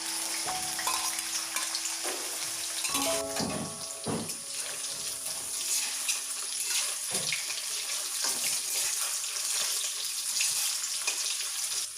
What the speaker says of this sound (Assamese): এতিয়া পনীৰকেইটা ফ্ৰাই কৰি লওঁ।